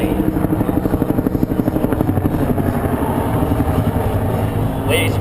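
A Cobra attack helicopter flies a low demonstration pass at an air show, its rotor chopping in a loud, steady rapid beat close by, with a faint announcer's voice underneath.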